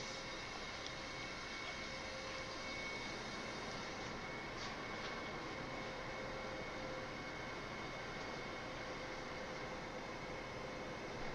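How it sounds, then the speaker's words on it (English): Boeing 747-8 jet engines in a flight simulator game, a steady, dense broadband roar with a faint high whine, constant and unbroken throughout with no talk. "this is a VFR 747 flight today"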